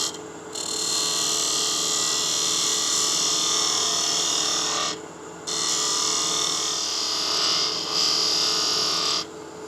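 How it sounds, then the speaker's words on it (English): A spindle gouge cutting a shallow cove in wood spinning on a lathe while turning a salt and pepper mill, giving a steady, bright, close hissing shave that breaks off once briefly before resuming. "Now we'll go back to my spindle gouge just to cove this out ever so slightly."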